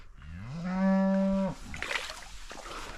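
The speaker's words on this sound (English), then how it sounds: "Cows." A cow in a field beside the River Thames gives one loud, drawn-out moo, rising and then holding steady, with faint outdoor rustling afterward.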